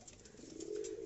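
A sick pigeon that landed at a house gives a short, soft coo, faint and fairly close, lasting about a second with nothing else heard.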